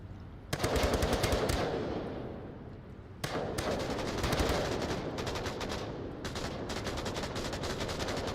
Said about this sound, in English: Lots of covering fire coming out.